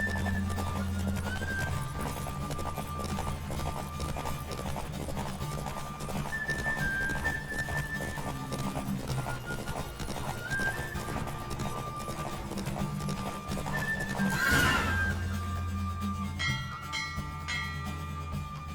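Galloping hooves pound steadily over a rich soundtrack in The Witcher 3: Wild Hunt, with a horse's whinny rising near the end and bell-like tones layered in.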